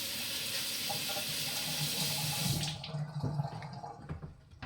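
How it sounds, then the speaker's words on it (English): Tap water running steadily as an Australian natural whetstone with slurry on it is rinsed, a close continuous splash that stops partway, followed by wet handling and faint drips. "actually let me wash this stone off"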